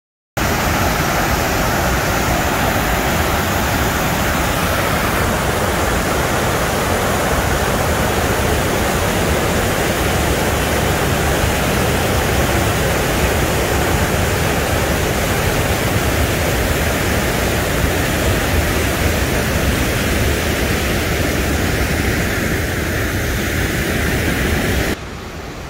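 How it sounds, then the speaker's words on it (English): Lower Tahquamenon Falls, water churning and ripping down in a loud, unbroken broadband roar that holds steady for over twenty seconds before dropping slightly at the very end. "just because these are the smaller falls of the two doesn't mean the water's not just ripping down there"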